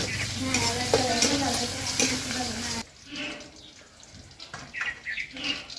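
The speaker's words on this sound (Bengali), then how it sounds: "রসুন কুচি করা একটু পেঁয়াজ কুচি দিয়ে দিলাম এতক্ষণ এটা একটু হালকা বাদামি কালার করে আমি ভেজে নেব" Chopped garlic and onion frying in hot oil in a pan, a loud sizzle with stirring scrapes for about three seconds, then quieter scattered clatter and crackle.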